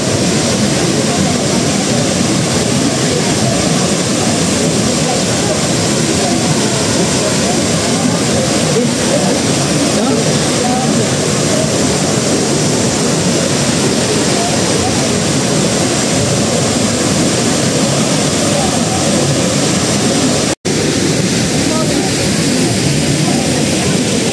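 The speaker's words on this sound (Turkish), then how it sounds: "Kavasan Waterfall'un önündeyim." Kawasan Falls in Moalboal, Cebu, a constant, dense roar of cascading water close by, loud and unbroken throughout apart from one momentary dropout.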